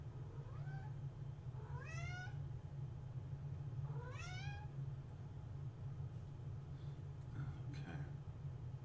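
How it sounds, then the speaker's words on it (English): Small cats meowing a few times at a distance, rising and falling cries spaced several seconds apart, faint over a steady low hum. "There's little cats around too, so you hear them meowing."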